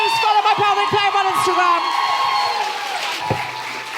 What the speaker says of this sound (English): Big round of applause for Sarah Rose.